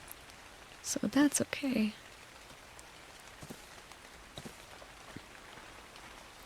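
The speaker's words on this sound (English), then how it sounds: "It's actually raining in the desert." Rain falls in a desert in the video game ARK on the Extinction map, a soft steady patter with scattered drops, heard faintly under a brief spoken comment.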